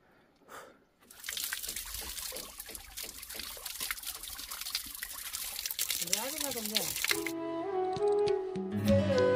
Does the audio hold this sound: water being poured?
yes